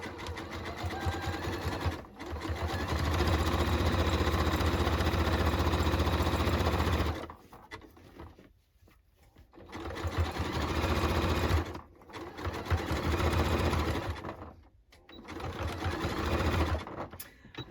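A sewing machine stitches the side seam of a denim jacket in several steady runs, with a long opening burst followed by three shorter ones separated by brief pauses, close and clear with no talking.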